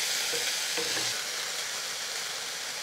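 Chopped vegetables and a small tomato stir-fry in a pan with a steady, fairly quiet sizzle and a few soft stirring knocks early on, with no voices.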